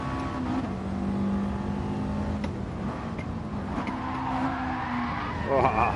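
Race car in a racing video game at Spa, rear end sliding out: steady engine drone with shifting revs and tyre squeal rising near the end, under occasional faint talk.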